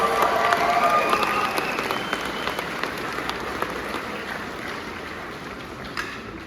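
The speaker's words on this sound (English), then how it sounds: "Give yourselves a round of applause." A large crowd at a college graduation applauds steadily, dense clapping filling the space and slowly thinning toward the end, with no talk over it.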